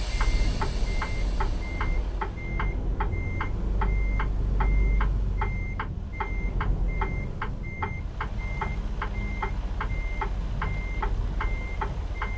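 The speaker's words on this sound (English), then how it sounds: "I'm gonna reverse it a little bit more to leave some room." A truck in American Truck Simulator backs up in snowy conditions, its reverse alarm sounding a steady run of evenly spaced electronic beeps over a low engine drone, with no talking.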